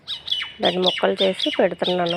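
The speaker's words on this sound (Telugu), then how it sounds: "పక్షులు చూసారు ఎలా అరుస్తున్నాయో" Birds squawk loudly and repeatedly nearby in harsh, rapid bursts, while a person speaks over them.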